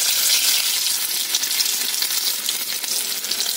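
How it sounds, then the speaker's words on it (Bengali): Sliced potatoes and bitter gourd fry in hot oil in a pan, giving a continuous bright sizzle that stays close and steady throughout, with no talking. "আর এখানে আমি করব আলু ভাজা"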